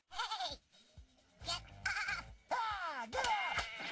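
Several sheep bleat in an animated film, a run of close, loud, wavering cries with brief pauses between them.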